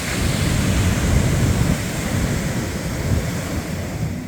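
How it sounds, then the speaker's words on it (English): Big ocean surf at Cabo San Lucas, with waves about ten feet tall, makes a steady, loud, rushing roar that builds slightly in the middle, with no voices over it. "Those waves are no joke."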